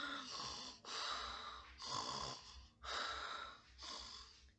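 Cartoon animal friends snoring in a children's story, five long rhythmic rasping snores in steady succession, close and fairly loud, likely voiced imitations.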